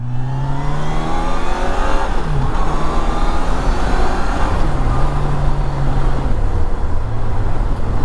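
A Yamaha FJR 1300 motorcycle engine pulls hard and loud, its pitch climbing steadily through the gears with brief dips at each shift, wind and road noise underneath.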